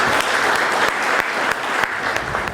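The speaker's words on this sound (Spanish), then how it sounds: "Quisiera que lo recibamos con un fuerte aplauso a nuestro expositor." Applause from an audience at a law lecture welcoming the presenter, a steady dense clatter of many hands clapping for a few seconds, loud and close throughout, with no voices over it.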